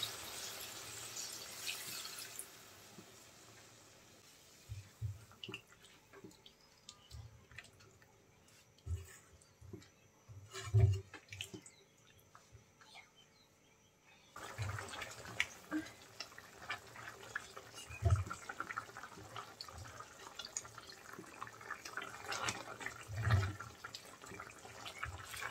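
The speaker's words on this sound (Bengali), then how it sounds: "পানি দিয়ে দেব সেদ্ধ হওয়ার জন্য।" Water runs into a pan of browned chicken bones to boil for lentil curry, a steady splashing pour with intermittent drips and clinks, fairly close and moderately quiet, with no talking.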